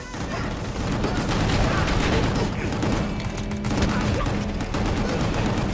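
Dense, continuous video game gunfire from Gungrave G.O.R.E during a dodge-shot move: rapid overlapping shots and booms at a steady loud level throughout, with a constant layer of game noise.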